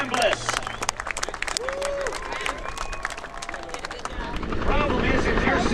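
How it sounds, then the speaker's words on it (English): Crowd applause at the Andrews Air Force Base airshow for aerobatic pilot Kirby Chambliss, a broad outdoor wash of clapping that swells toward the end, with a voice and faint aircraft or engine tones mixed in. "would you join me in one huge Andrews round of applause for Kirby Chambliss?"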